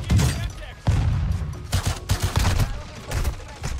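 MX Guardian shotgun blasts in Warzone 2.0, several loud close shots fired in quick irregular succession with sharp attacks and short decays over game background noise.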